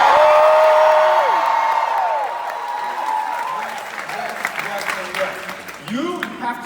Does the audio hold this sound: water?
no